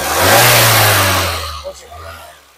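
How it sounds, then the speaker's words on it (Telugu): A 2009 Honda City S MT car engine revs up briefly under a light throttle, then eases back toward a smooth idle, close by and fading somewhat toward the end. "ఇంజన్ నాయిస్ చాలా అంటే చాలా స్మూత్గా అయితే ఉందండి."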